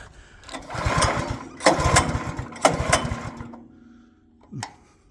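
An Arpal powered cutting tool bites through thin willow branches in two or three loud buzzing bursts with rapid pulsing, each cut ending abruptly, then a short final whir, close and without talk.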